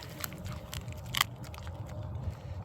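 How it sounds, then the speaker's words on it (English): A dog crunching and chewing on a rabbit foot bone close up, with repeated irregular bites and sharp cracking crunches, one louder snap near the middle, over a low background. "all this bone crunching, it grinds their teeth, keeping their teeth clean"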